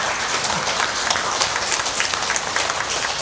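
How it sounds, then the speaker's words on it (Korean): A church congregation applauds during a Sunday worship service, a steady wash of many hands clapping at an even level throughout. "박수로 축하드리시죠."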